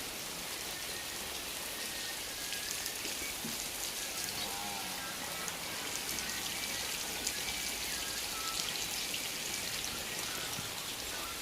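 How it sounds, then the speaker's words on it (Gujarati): Heavy rain pours down as a constant, dense hiss with close patter on surfaces, steady and unbroken with no voices. "વરસાદ બહુ જ ચાલુ થઈ ગયો"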